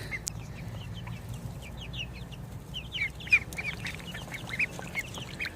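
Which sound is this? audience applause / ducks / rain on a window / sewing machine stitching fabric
ducks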